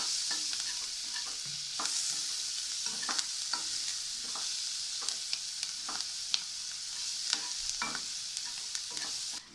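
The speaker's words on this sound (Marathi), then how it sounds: "आता कांदा थोडा भाजला आहे" Onion frying in hot oil in a pan for a cluster bean curry, a constant close sizzle with repeated scraping stirs and clicks of a spatula, loud and steady with no voices.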